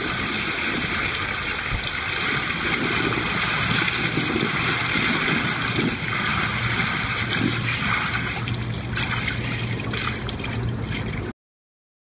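A person climbs into a barrel full of water on a hot day, making continuous close sloshing, gurgling and splashing that carries on steadily for several seconds before stopping abruptly.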